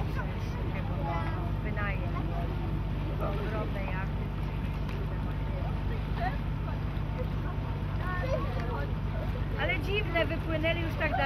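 Boats motoring on their engines out on Lake Niegocin, a low steady engine drone with wind buffeting the microphone, while people talk nearby over it.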